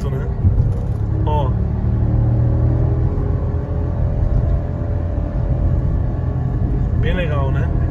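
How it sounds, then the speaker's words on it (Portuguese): A 2021 Fiat Argo Drive 1.0 held in third gear on the road, its engine giving a steady, low, humming rumble from inside the cabin, with a person talking over it. "Deixei de terceira marcha só para ouvir mesmo o ronquinho."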